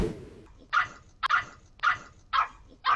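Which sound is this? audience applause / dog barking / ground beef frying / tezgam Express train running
dog barking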